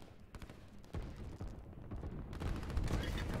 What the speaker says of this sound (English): Here's some firing going on already.